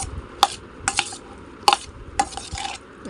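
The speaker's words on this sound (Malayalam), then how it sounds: "നല്ല പ്യുവറായിട്ടുള്ള ഹണിയാണ് നമ്മുടെ നല്ല പോലെ ഒന്ന് മിക്സ് ചെയ്യാം" Fruit salad being mixed with honey in a bowl, heard as several sharp spoon clinks and scraping strokes against the bowl, close and fairly loud, with no talk.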